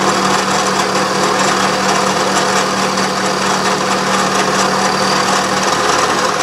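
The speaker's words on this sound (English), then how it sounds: "I'm going to go back the other way, climb milling." Milling machine climb milling a part for a small wobbler double-acting steam engine, a steady loud mechanical whir with a constant hum and no break, close by.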